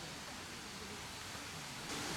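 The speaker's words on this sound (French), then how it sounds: "Surtout avec le bruit de la rivière qui passe" A river flows past a quiet garden in Osaka, Japan, a steady soft rush of running water that stays even throughout at low volume.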